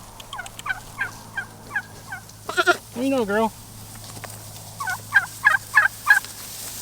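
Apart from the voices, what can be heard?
turkeys gobbling on a farm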